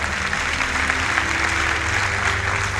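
Dense applause from an audience at a fashion contest final, steady and fairly loud throughout with a low hum underneath, greeting a jury member as she is introduced.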